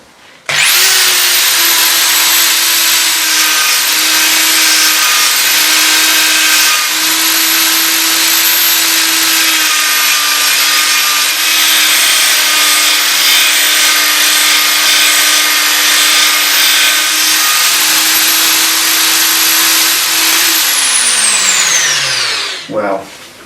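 A drill bit sharpener grinding a 10 mm drill bit, a steady, high-pitched motorized whine running without a break for over twenty seconds, then winding down as the motor stops.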